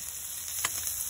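Garlic fries in a pan over high heat for a mussel dish, giving a steady close sizzle with a sharper crackling burst partway through.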